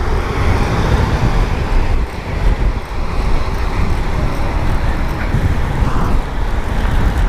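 Car traffic passes on a road nearby, forming a steady, loud broadband rush with wind buffeting and no clear gaps between vehicles.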